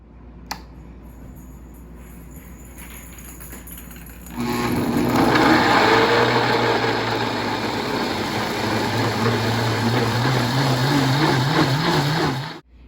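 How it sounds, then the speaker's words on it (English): A steady low hum gives way to a loud whirring blender pureeing cherries, running continuously for several seconds, then cutting off abruptly. "I'm going to blend them up to puree"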